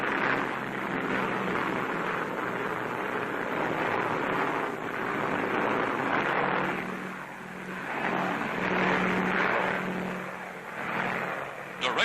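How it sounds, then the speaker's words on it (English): WWII transport planes fly with an escort of P-38 fighter planes over the Mediterranean coastline, giving a loud, continuous engine drone that swells and eases in slow waves. "Transports are escorted by squadrons of fast P-38s, American fighter planes."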